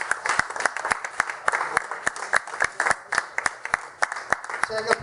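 A crowd at a football club end-of-season presentation claps steadily, many hands in a dense, lively round of applause with sharp individual claps standing out near the front.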